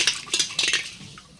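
Metal utensil scraping and clinking against a pan while stirring a copper sulfate solution, several quick bursts of scraping close by with short pauses, no talking.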